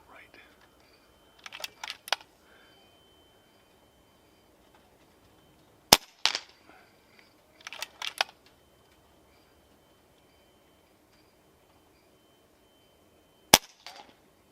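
An Air Arms S510XS .25 air rifle fires sharp single shots at a 100-yard steel target, three crisp cracks spaced several seconds apart, amid quiet clicks and handling noises in a mostly silent setting.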